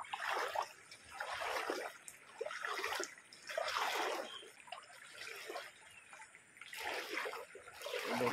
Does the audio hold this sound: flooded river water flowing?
yes